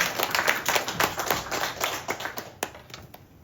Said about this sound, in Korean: 우리 여신도들을 위해서 다시 한번 박수 한 번 할까요?